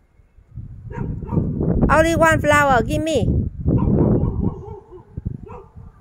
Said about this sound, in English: Hurry up or the dog will chasing you.